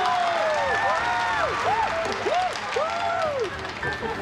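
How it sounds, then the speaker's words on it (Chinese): Applause from the audience at a company annual party as a dance performance is introduced. The clapping sits underneath loud, wavering, sliding tones that dominate throughout. "掌声有请"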